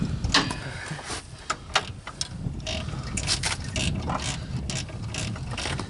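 A ratchet fitted with a 17 mm socket clicks in quick, uneven bursts as it works an oil drain plug loose, close and fairly loud against a faint metallic background.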